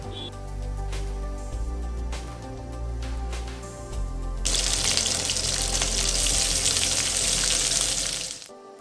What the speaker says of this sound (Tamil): இனிமேல் இதை வறுவல் செய்யலாம்.